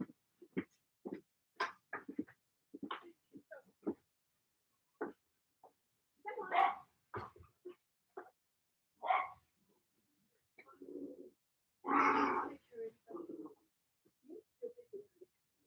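A dog gives a scattered series of short, sharp barks and yips, some louder and longer, spaced irregularly with quiet gaps between them.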